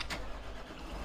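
Tractor engine in the Farming Simulator 17 video game starting up, a brief burst of cranking noise followed by a steady low engine rumble, close and fairly loud with no talking.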